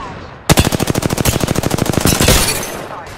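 Gunfire in a ranked Arena match of the shooter game Apex Legends, Season 14: a long, loud, steady automatic burst of closely spaced shots at close range, then a short decaying tail.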